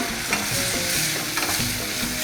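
Steady sizzle of onions frying, crackling loud and close throughout, with faint clinks of a utensil stirring in the pot over a low background hum.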